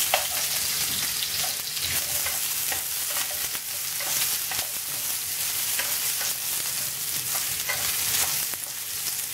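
Drumstick pieces sautéing in sesame oil in a pan, a dense, continuous crackling sizzle with frequent light scrapes and taps of the stirring spoon close by.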